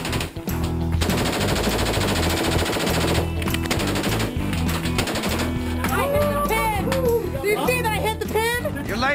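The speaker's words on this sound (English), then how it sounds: "From firing machine guns to Guns of Freedom range" Machine guns fire in rapid bursts at the Guns of Freedom shooting range during the 2012 Sturgis Rally, loud and continuous over a dense mix with music-like tones and crowd noise.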